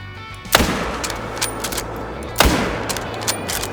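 Two loud, sharp hunting rifle shots in the Call of the Wild hunting game, a .308 rifle firing about two seconds apart, each with a sudden crack and a long fading echo over a quiet outdoor hum.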